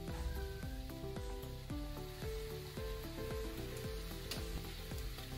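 Chicken perattu with added spices sizzling in a pan while being stirred, with steady frying hiss under repeated scraping strokes of a spoon in a regular rhythm, close and moderately loud throughout.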